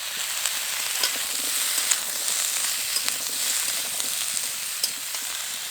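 Vegetables with drumstick and Malabar spinach stalks fry in a pan with a steady close sizzle, and a few soft clicks from stirring break through now and then.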